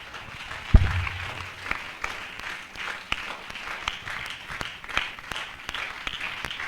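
A church congregation claps in welcome, a thin, fairly distant patter of applause with a loud thump near the start and scattered sharper claps over a low room murmur.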